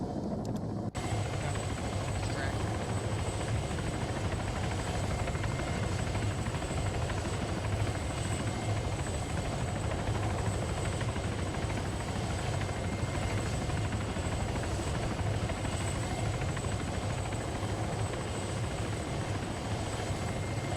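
A helicopter in the video game Arma 3 drones steadily with a continuous rotor and engine hum, loud and unbroken, with no talk over it.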